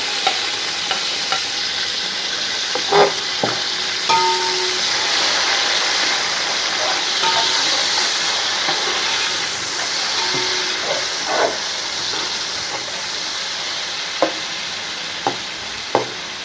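Tomatoes and green chillies fry in a pan for pulao, giving a loud, continuous sizzling hiss broken by a few stirring clinks and scrapes, with no one speaking.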